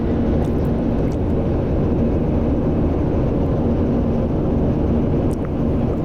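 Rotorsport UK Cavalon gyrocopter in flight, heard from inside as a loud, constant low engine and rotor drone that persists unchanged throughout, with no speech.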